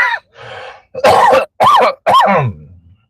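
A series of loud, close coughs and throat clearing, four or five harsh bursts in a row, with no talking.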